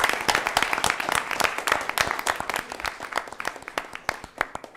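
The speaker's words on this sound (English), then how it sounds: "we also like to maybe have a round of applause for all of your parents who are supporting that effort" Audience at a school board of education meeting applauding parents, a dense crackle of many hands clapping steadily and fairly close, with no talk over it.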